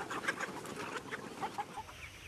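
Label Rouge chickens released into a tree-covered field cluck and murmur in short soft bursts, a few birds close by, quiet with no talking.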